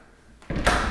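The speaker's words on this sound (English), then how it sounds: "I have to open up this miniature door." A small miniature door in a high-end colonial farmhouse is pulled open, a brief quiet scrape followed by a sudden louder rush and rattle of the door swinging, close and alone.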